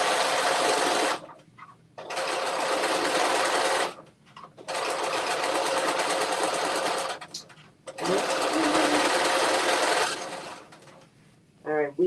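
Domestic sewing machine fitted with an edge foot stitching a wrap dress, running in three long steady bursts of rapid mechanical whirring with brief pauses between, close and loud.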